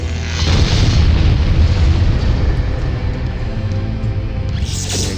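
Booming weapon fire and explosions from the 1997 PC strategy game Final Liberation: Warhammer Epic 40,000, a dense continuous barrage of loud blasts and rumbling impacts that stays heavy throughout, with a brighter burst near the end.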